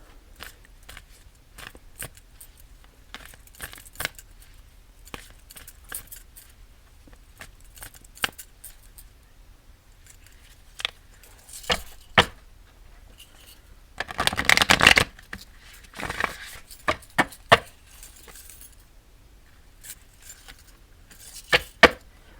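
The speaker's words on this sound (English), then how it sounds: "I'm going to shuffle our thought of the day from our Healing the Mind and Spirit cards by Dr. Brian L. Weiss, MD." A Healing the Mind and Spirit card deck is shuffled in scattered, crisp riffles and taps, with quiet gaps between them and one denser burst of shuffling near the middle.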